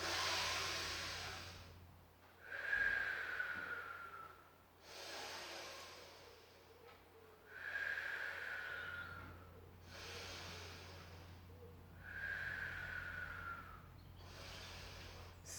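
Slow, deep breaths taken during a pilates stretch come in a steady rhythm, each long inhale or exhale separated by a short pause, close and fairly soft, with no speech.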